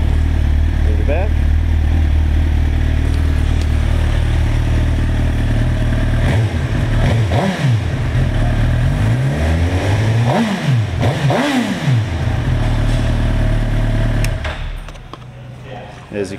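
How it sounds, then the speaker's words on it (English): A blue 2007 Suzuki GSX-R1000 sport bike engine runs loud and close, idling steadily, then revving in several sharp rising and falling blips before settling and dropping off near the end. "Fire it up."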